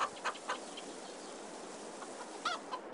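Chickens cluck in the farming game Farming Simulator 22, a few short clucks near the start and again near the end over a steady hiss of farmyard ambience.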